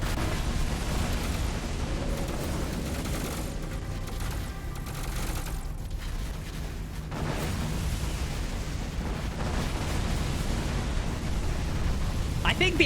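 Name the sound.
explosions in space battle, video game Sins of a Solar Empire II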